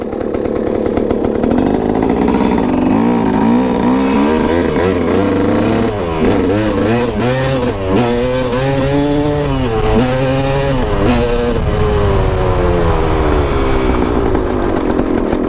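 A KTM two-stroke dirt bike engine runs loud and close, idling buzzily and then revving up and down repeatedly in rising and falling bursts, with no talk.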